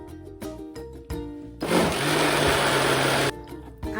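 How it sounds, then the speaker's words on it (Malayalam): A kitchen mixer grinder whirs steadily for under two seconds while blending coconut milk batter for kinnathappam, a loud dense roar that starts and stops abruptly between quieter clinks and clatter. "ഞാനൊന്ന് മിക്സിയിലൊന്ന് അടിച്ചെടുത്തോട്ടെ"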